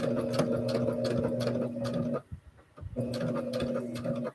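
A sewing machine runs steadily while stitching a seam on a plus-size pajama tee-shirt, a close mechanical whir that stops briefly for about a second before starting again.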